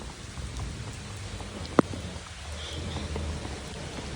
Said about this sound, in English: I've got raindrops on my screen.